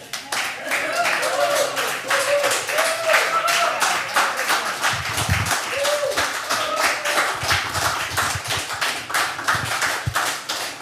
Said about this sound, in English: You got a good applause at the end.